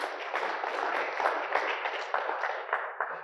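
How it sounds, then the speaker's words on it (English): A congregation claps steadily in warm, full applause for an admired preacher, a broad crowd sound that holds level throughout with no voices on top. "Let's just give Craig a clap again."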